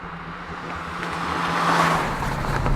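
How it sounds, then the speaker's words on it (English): A Hyundai Veloster is driving, its engine giving a steady low hum that swells gradually louder as the car picks up speed, with no voices. "As soon as I started driving this car, I was surprised at how well this car handles."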